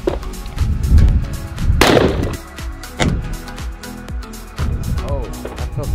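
Gunshots strike the layered glass-and-polycarbonate bulletproof window of a Rezvani Tank armored SUV, with sharp loud impacts among bursts of wind and handling noise, and people talking over it.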